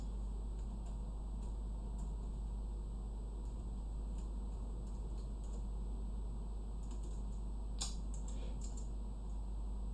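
Keys on an HP 250 G7 laptop keyboard tap in quick, irregular clusters of light clicks, faint against a steady electrical hum, with one sharper click near the end and no speech.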